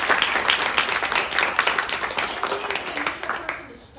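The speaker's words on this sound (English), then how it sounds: "I just want to give a round of applause to Max for his 2 years of service on the board" A small audience at a makerspace's annual meeting claps and applauds warmly, fairly close, then tapers off toward the end.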